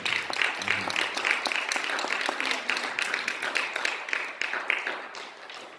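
Church congregation clapping together at a Spanish-language worship service, a steady, moderately loud patter of many hands with faint voices mixed in.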